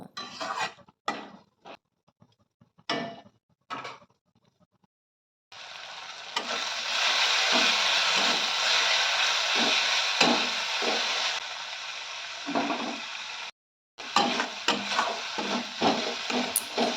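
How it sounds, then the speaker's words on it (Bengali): Spices sizzle with tomato and onion in a pan while being stirred: first a few sharp scrapes, then a loud steady frying hiss with stirring knocks, a brief pause, then more scraping. "ভালো করে সমস্ত মশলা একসাথে কষে নেব।"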